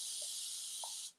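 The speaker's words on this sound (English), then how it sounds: "spraying some water on them" A continuous hiss of water sprayed from a hand spray bottle onto wood, one sustained spray lasting about a second, close and steady, then stopping abruptly.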